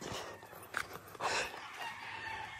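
Free-ranging hens at a farm resting in shade under wooden structures, with soft clucks and a rooster crow rising briefly over faint background, fairly distant.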